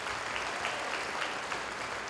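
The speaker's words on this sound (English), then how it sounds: "Give yourself a round of applause." An audience at a leaders' training summit applauds, a steady wash of many hands clapping together at moderate distance, continuous and even for the whole stretch with no voices standing out.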